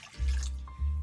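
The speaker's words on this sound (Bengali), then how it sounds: "সেই জন্য দিয়ে দিচ্ছি কড়াইতে জল" Water is poured into a kadai to boil cauliflower, making a brief, close splash and drip that lasts about a second, with no voices.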